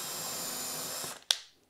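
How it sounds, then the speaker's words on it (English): Drill running in reverse to start holes in plywood, a faint steady whirring grind that cuts off, followed by a short sharp click and a fading tail. "if you start the hole with the drill in reverse, you'll have much less tear out"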